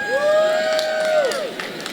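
An audience cheers for a guest comic artist at a DC Comics art event, a crowd whooping and calling out over scattered clapping, with a loud sustained voice-like tone in the middle and brief speech at the end.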